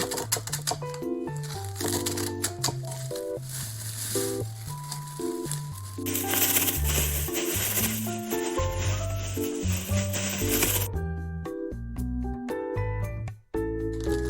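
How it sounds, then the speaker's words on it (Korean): Roasted seaweed sheets are crushed inside a plastic bag, giving close crinkling and rubbing crackles in irregular bursts over steady background music. "구워진 김은 잘라 비닐 봉투에 넣고 부셔주세요."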